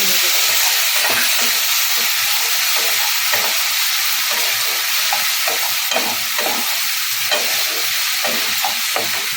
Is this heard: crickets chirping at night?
no